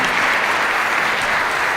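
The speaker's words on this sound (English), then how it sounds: "Let's hear one more round of applause for Heidi for this presentation." An audience at a winter satellite workshop applauds after a presentation with a dense, even burst of many hands clapping, filling the whole short stretch without pause.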